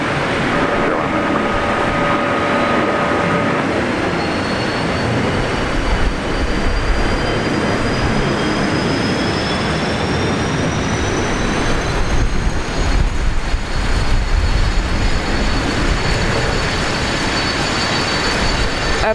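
An airliner landing at Brisbane Airport, a steady broadband roar with a rising whine that holds throughout the clip, loud and close.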